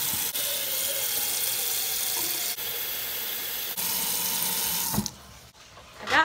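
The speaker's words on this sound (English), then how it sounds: "Now that I have found it, we're going to fill it with water." Water runs from a kitchen tap into a pot, a steady hissing splash for about five seconds before the flow cuts off, followed by a brief clatter.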